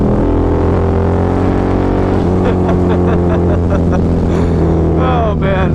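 A loud, continuous engine drone with shifting pitch from a Harley-Davidson V-Rod motorcycle exhaust roaring at speed while riding, with brief rising revs near the end.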